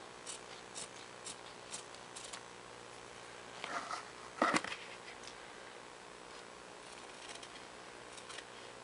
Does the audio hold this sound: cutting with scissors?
yes